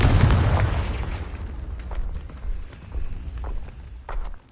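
The Confringo fire spell bursts in the video game Hogwarts Legacy with a loud, booming explosion right at the start that rumbles and fades, followed by scattered softer impacts and footstep-like sounds.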